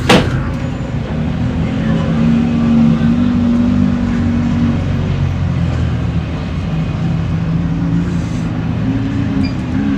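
Off-road comp race trucks roaring around the High Desert 100 track in Powell, Wyoming; a loud, sustained engine drone with shifting revs heard from a spectator's distance, no talk over it.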